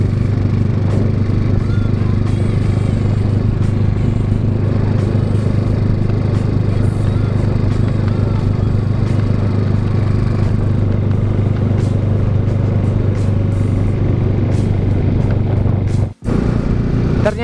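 A steady, low engine drone from a motorcycle runs the whole time with light rattles, cutting out briefly near the end.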